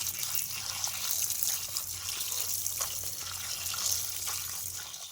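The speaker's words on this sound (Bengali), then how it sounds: "মাশরুমটাকে এরকম ভালো করে ধুয়ে নেবেন।" Mushrooms washed in water in a kitchen, a soft continuous splashing and trickling of water with faint handling noises, fairly quiet and without speech.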